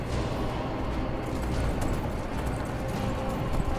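Horse hooves galloping in Skyrim, a dense continuous rumble of hoofbeats that stays loud and steady throughout, with no clear breaks between strides.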